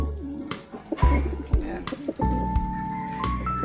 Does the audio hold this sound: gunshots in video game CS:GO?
no